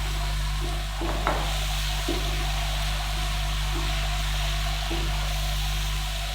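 Cumin seeds, bay leaf and black pepper sizzle in a pot of hot oil with a steady, loud frying hiss, broken by a few soft stirring knocks and clinks for yulkhni pulao.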